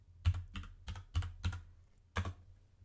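Six distinct keystroke clusters tapped out on a computer keyboard while entering a MATLAB command, close and clear in a quiet room with uneven pauses between them.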